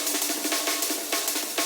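A Frenchcore drum break in Ableton with a long reverb of roughly 1.5-second decay hits in a fast, regular pattern, its kicks and snares washed into a dense, bright, continuous reverberant haze.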